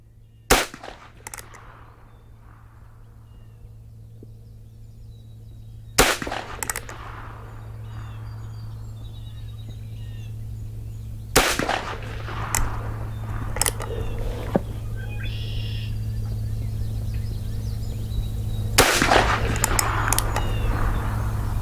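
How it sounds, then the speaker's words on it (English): Heritage Rough Rider 16-inch .22LR revolver firing CCI Mini Mag rounds on an outdoor shooting range: four sharp, well-spaced single shots over a steady low hum, with small clicks between them. "let's go ahead and shoot the top right-hand target"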